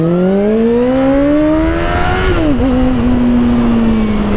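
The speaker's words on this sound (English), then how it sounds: "I'm definitely enjoying, like, you know, revving the bike out" A Suzuki GSX650F motorcycle engine revs steadily upward in pitch, dips briefly, then holds a loud, sustained high drone, close and continuous with no talking.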